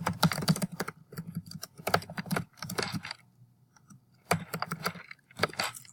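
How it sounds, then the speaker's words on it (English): Fingers typing on a computer keyboard in bursts of rapid clicking, with short pauses between runs of keystrokes; close and moderately loud, with no speech. "I just typed something in there."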